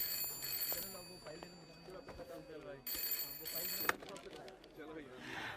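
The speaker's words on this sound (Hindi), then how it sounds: "फोन बज रहा है तुम्हारा" In an office, a desk telephone rings in two bursts of repeated bell trills at moderate loudness, while people talk around it.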